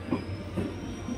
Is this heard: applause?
no